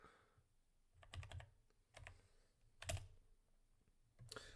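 Someone types on a computer keyboard in a few short bursts of clicking keystrokes separated by brief pauses, close and quiet in an otherwise still room.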